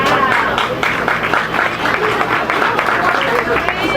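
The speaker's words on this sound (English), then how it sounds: "Give Miss Ann a round of applause" A crowd at a women's bass fishing tournament weigh-in on Lake Guntersville applauds an angler, with dense, loud clapping that runs steadily for several seconds while voices murmur underneath.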